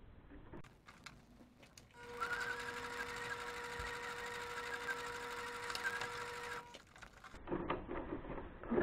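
Domestic sewing machine zigzag-stitching fabric for a circle skirt, running in one steady whirring burst of about five seconds with a humming motor tone, bracketed by quieter handling clicks and rustles before and after.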